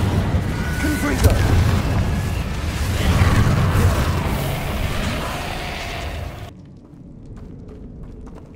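A Confringo fire spell detonates in the Hogwarts Legacy video game, a loud booming blast with a rumbling crash that rolls on for several seconds before cutting off into quieter ambience, with game speech mixed in.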